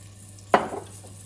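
Raw carrot dropped into hot oil in a pan, a single sharp clatter and hiss that quickly settles into a faint sizzle, no voices.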